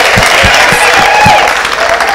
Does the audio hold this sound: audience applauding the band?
yes